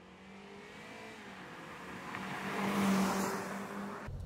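A Toyota Camry 2.0Q accelerating, its engine note rising and swelling to a peak near the end of the clip before cutting off abruptly, with no voices.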